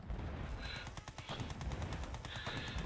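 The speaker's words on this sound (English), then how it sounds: "Gatling cannon." Gatling cannon firing in Yuri's Revenge with the SFJ mod, a rapid unbroken stream of loud mechanical gunfire bursts that lasts the whole stretch alongside other battle noise.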